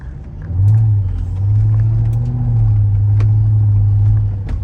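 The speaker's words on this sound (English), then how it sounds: "Sounds really good too, as I'm listening to the exhaust." A 2006 Mercedes SL500 R230 with mufflers deleted but catalytic converters and resonators kept idles and revs nearby, a loud deep droning exhaust rumble rising and holding steady throughout.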